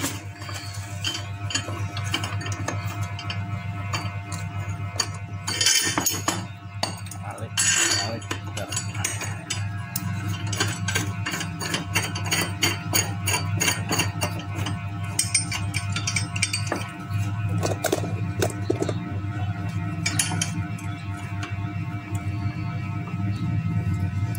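A nut turned on a bearing puller fitted with a size 17 shaft, with light metallic clinks and ratcheting ticks close by over a steady low hum, and someone talking throughout.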